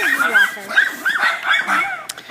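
An excited, rambunctious sled dog lets out a rapid run of yips and high whining barks that go on nearly without pause, close and fairly loud.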